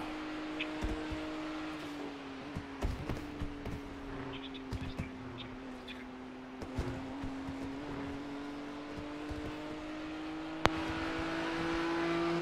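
A car engine drones at steady high revs against the rev limiter during an endurance race at Daytona, holding a flat, sustained pitch with small stutters, alongside scattered pops and crackles in the background.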